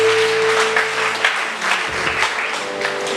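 A church congregation claps during a sermon, giving sustained, moderately loud applause with a low hum under it throughout.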